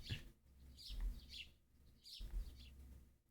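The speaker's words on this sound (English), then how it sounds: "No way, we've got that really weird bird sound." Odd, repeated bird calls in a visual novel video game, short chirping cries recurring in two or three bursts over a quiet low hum.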